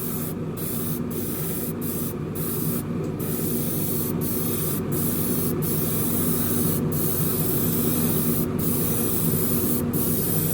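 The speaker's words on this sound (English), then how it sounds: "This stuff sprays great once you get the right consistency." Grabber blue paint hisses from a spray can onto a plastic Revell 1971 Boss 351 Mustang model car in one steady, close spray lasting about ten seconds, broken by a few brief tapping clicks.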